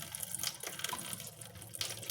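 Running water from a tap in a home kitchen or washing area, a faint continuous splashing and trickling stream heard alone.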